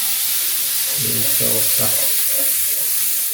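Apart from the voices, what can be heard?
cauliflower frying in a pan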